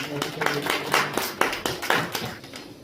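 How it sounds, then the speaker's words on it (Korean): A church congregation claps together at the start of a worship service, with a steady run of sharp, evenly spaced claps over the whole stretch. "주님께 영광의 박수를 올리고 예배 시작하도록 하겠습니다."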